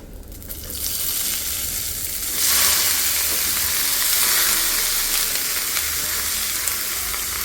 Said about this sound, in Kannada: ಸೊ ಇದು ಫ್ರೈ ಆಗಿದೆ, ಬನ್ನಿ ಇವಾಗ ಬೀಟ್ರೋಟ್ ಹಾಕ್ಕೊಳ್ಳೋಣ